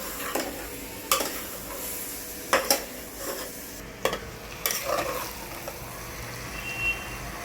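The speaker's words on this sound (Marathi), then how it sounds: "तांदूळ असं परतून घ्यायचं पुलाव करताना" Rice stirred and sautéed with spices in a pot for pulao, giving scattered scraping and clattering strokes of the spoon against the metal over a soft, steady sizzle.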